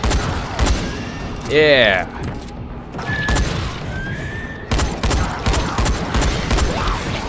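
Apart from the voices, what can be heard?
gunfire on an enemy in the video game Dying Light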